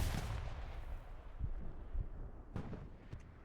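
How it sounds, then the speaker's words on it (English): A grenade explodes in a multiplayer shooter scrim. A deep boom with rumbling aftermath is followed by a few sharper cracks of gunfire, all at moderate volume. "Throws out the grenade."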